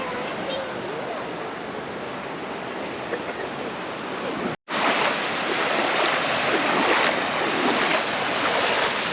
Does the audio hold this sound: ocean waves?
yes